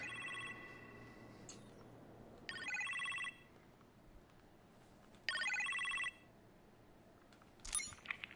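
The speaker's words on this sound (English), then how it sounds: "You appear to have a phone call in the kitchen, sir." A telephone rings in the kitchen in the Iron Man VR video game: three separate bursts of bright electronic ringing with quiet gaps between them, then a shorter burst at the end.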